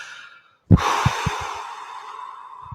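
A deep breathing exhale comes in sharply as a loud rush of breath, then trails off into a long, fading sigh-like release close to the microphone.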